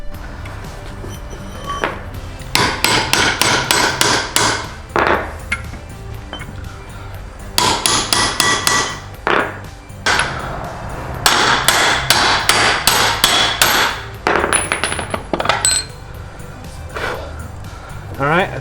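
Repeated sharp metallic taps from a mini sledgehammer driving a bushing into the track bar of a 2006 Dodge Ram 2500, struck in quick bursts of close, ringing blows separated by short pauses.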